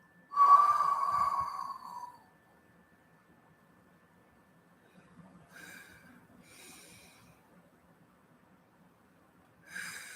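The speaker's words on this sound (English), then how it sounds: "Breathe in divine love and breathe out fear." Slow, deep breaths during a channeled spiritual reading: a long, close, airy inhale of about two seconds, a softer breath after a pause, and another beginning at the end, with near silence between.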